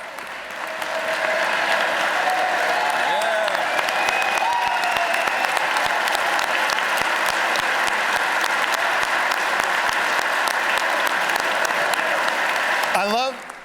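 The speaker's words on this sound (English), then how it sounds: "I love that our favorite plumber senator led the clapping for the trades." Sustained applause from a large crowd at a Pennsylvania governor's budget address rises quickly and holds steady for several seconds, with faint voices mixed in before it cuts off abruptly.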